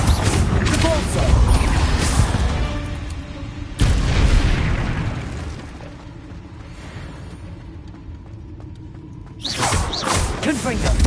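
Repulsor spell blasts go off in Hogwarts Legacy. Three loud, booming, broadband bursts arrive several seconds apart, each fading into a rumbling, mechanical tail between them.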